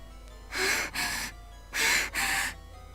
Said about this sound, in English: was gasping for air with huge gulps